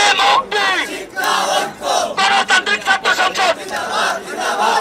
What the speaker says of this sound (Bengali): দুই পক্ষের স্লোগানে পুরো মধুর ক্যান্টিন এলাকায় উত্তেজনা ছড়িয়ে